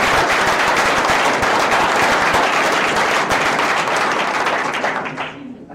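An audience at a live pitch competition event applauds one project, producing dense, loud, continuous clapping that holds steady for several seconds before fading out at the end.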